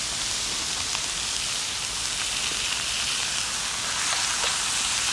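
Chopped tomatoes and garlic sizzle in a paella pan, a steady, loud, dense hiss that holds without a break.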